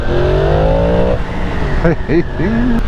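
A BMW M2 engine revs up with a rising whine, then drops back and blips several times in quick bursts, close and loud.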